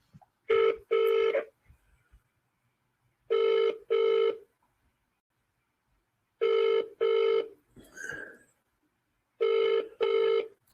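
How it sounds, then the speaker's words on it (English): Telephone ringback tone from an outgoing call, paired double rings repeating four times with long silent gaps, clear and fairly loud, with a brief faint murmur between two of the rings. "you can hear the actual phone call"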